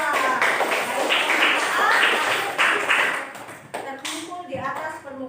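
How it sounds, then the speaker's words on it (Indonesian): A classroom applauds a student named Nila, a burst of clapping from many hands lasting about three seconds that then thins out into scattered shuffling and a voice. "tepuk tangan untuk Nila"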